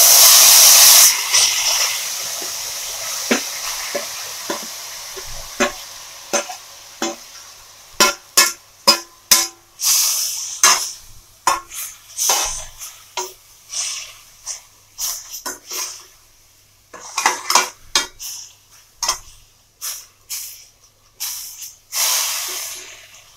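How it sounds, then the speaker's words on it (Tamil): Grated beetroot tipped into a hot pan and stirred for beetroot halwa, giving a string of sharp, close scraping and hissing strokes in an irregular rhythm, with no talking. "இப்போ இதே பேன்லயே நம்ம துருவி வச்சிருக்க பீட்ரூட் ஆட் பண்ணிக்கோங்க."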